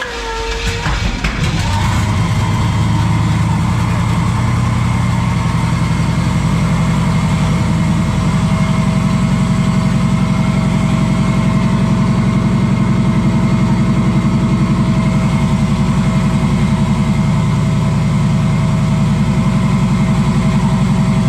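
An engine cranks and catches, then settles into a steady, loud idle with a constant low rumble that runs unbroken to the end.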